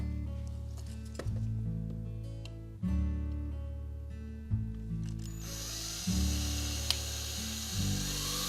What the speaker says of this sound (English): So all I have to do is drill out this one